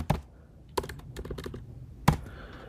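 Typing on a computer keyboard, close and clear: a few louder key strikes scattered among quicker, lighter taps in an irregular rhythm, with no talking.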